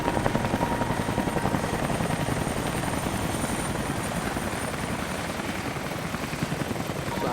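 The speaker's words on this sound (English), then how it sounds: "I gotta go down there and check the helicopter." Helicopter flying in the video game Rise of the Tomb Raider, Siberian wilderness setting: a steady, loud rotor chop with rapid rhythmic beating and engine whine, continuous throughout with no talk over it.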